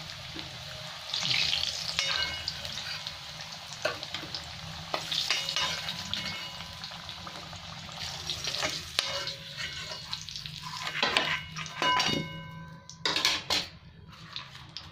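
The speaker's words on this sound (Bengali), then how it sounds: "এই তেলের মধ্যেই আমি তেজপাতা, শুকনো লঙ্কা আর গোটা জিরে দিয়ে দেবো।" Bay leaves, dried chillies and whole cumin frying in oil left from frying potatoes: a steady sizzle and crackle, with intermittent clinks and scrapes of a utensil against the pan.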